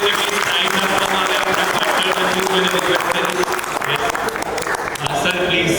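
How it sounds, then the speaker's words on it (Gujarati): Audience at a corporate builder project launch event, a sustained burst of loud clapping from many people, with voices faintly beneath it. "દિલીપભાઈ માટે બી તાળીઓ થઈ છે."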